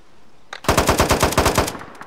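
A close, loud burst of rapid automatic gunfire rattles off a fast run of shots lasting about a second and a half.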